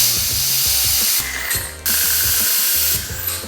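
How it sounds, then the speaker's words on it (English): An air-compressor-driven vacuum tool draws old brake fluid out of a motorcycle brake reservoir on an MT-07 adventure build, giving a loud continuous mechanical rattle with bursts of hissing air, close and alone. "This hooks to my air compressor and is able to use pressure to create a vacuum"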